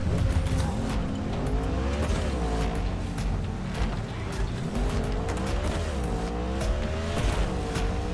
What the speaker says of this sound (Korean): 말짱한 오토바이가 한대 있는데 빨리 타고 갑시다